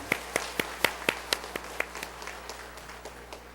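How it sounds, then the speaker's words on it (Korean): A church congregation claps after a choir's hymn, a dozen sharp, evenly spaced claps that start crisp and loud, then thin out and fade into scattered softer taps. "우리 수고에 대해서 박수 한번 다시 좀 부탁드립니다."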